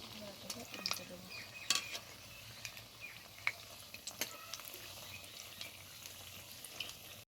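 Crispy semolina (suji) snacks fry in hot oil with a soft continuous sizzle, punctuated by faint clicks and scrapes of a utensil turning them in the pan.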